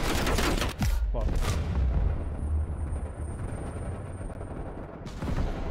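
Dense gunfire from Call of Duty: Black Ops Cold War during a realism-difficulty mission with no cover, heard as loud, continuous overlapping shots and blasts across the whole stretch.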